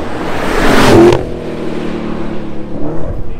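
A Dodge Challenger Hellcat Redeye blasts past on a hilly 2.5-mile racetrack, its supercharged roar swelling loud and close for about a second, then cutting off abruptly and fading into a lower distant drone.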